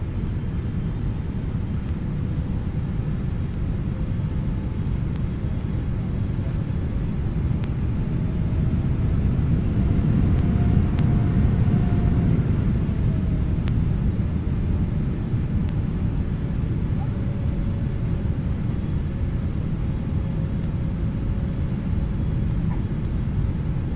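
Steady low jet-engine rumble from a PMDG 777-300ER airliner in Microsoft Flight Simulator 2024, a constant broadband roar that swells slightly midway, with faint clicks on top.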